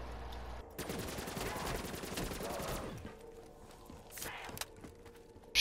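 Rapid automatic gunfire in a Black Ops 3 Zombies match rattles continuously for about two seconds, followed by quieter game sounds and a short burst, with no talk.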